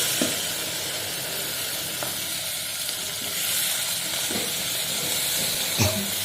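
Fenugreek leaves and coriander fry in a pan with a continuous hissing sizzle, punctuated by a few soft stirring knocks and scrapes, with no talking.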